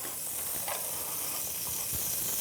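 Loud, constant hiss and sizzle of asparagus in a hot pan, close up, with a couple of small pops and no talking.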